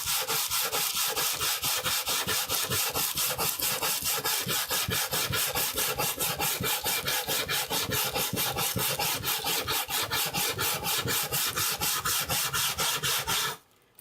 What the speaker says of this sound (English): There's a roughness in the front of the paper. Well, whatever, there's a roughness, and this smooths it out, this flattens it out.